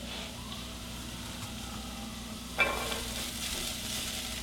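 Onion, garlic and mushrooms fry in a pan for a vegetarian bolognese, a steady close sizzle with a sudden louder burst of spatula stirring partway through, no voices.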